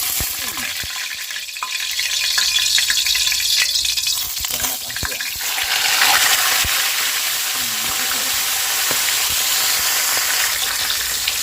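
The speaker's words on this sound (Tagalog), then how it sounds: "pagpiprito siyempre ng ating jambong tilapia. Yan, mainit na po yung ating kawali at mantika." Tilapia frying in hot oil in a kawali pan: a loud, continuous, crackling sizzle close by, with occasional spatters and scraping from the pan, no talking.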